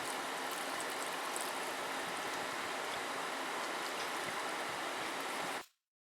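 A carton of Swanson 33% less sodium chicken broth is emptied into a pot, a steady continuous pouring splash lasting several seconds before stopping abruptly, close and alone.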